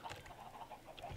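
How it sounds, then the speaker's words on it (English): Several chickens cluck briefly in a block-building video game, short soft bursts of clucking over a quiet background with a sharper note near the end. "there are many a chicken here"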